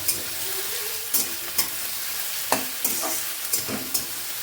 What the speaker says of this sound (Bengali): রবিবারের স্পেশাল আজকে হচ্ছে মাটন তো এই যে মোনা দিয়ে রান্না বসিয়ে দিয়েছে